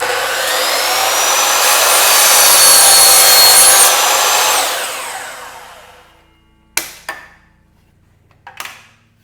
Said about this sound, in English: We'll go ahead and cut this second board.